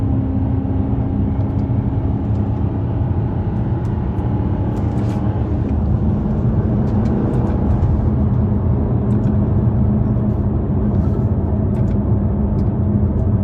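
A Maserati GranTurismo on the move, its engine giving a continuous loud low drone with a steady road roar and scattered faint ticks and knocks throughout.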